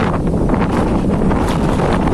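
Strong, steady wind roars and buffets the microphone throughout, a dense rumbling hiss with no voices.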